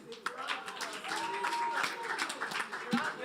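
A crowd at a business summit claps in a brief, scattered round of applause while voices talk over it.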